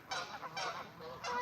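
Several geese honk in loud, agitated bursts during a territorial fight outdoors, three strong calls spread over a second and a half with no talking.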